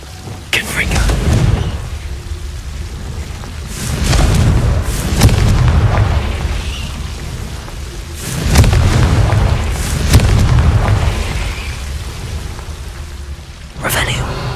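Confringo fire spells explode in the video game Hogwarts Legacy: several loud, deep booms with rumbling tails come at intervals of a few seconds, and a voice is heard at times in between.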